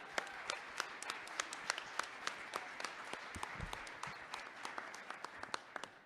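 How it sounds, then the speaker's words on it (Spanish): Sparse, quiet clapping from a small audience at a talk on family and crime prevention, honoring parents searching for their missing children, with scattered individual claps ticking unevenly for several seconds. "Un aplauso para ellos"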